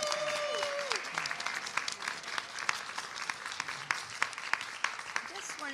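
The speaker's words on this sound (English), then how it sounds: "Let us applaud the advocates." Applause for advocates at a care economy press conference in Connecticut, steady clapping from a modest crowd, fairly distant and soft, running throughout with voices mixed in.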